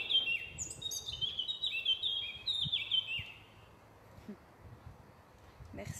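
A bird sings a bright, rapid series of high chirping phrases nearby for a few seconds, then falls quiet over soft background noise.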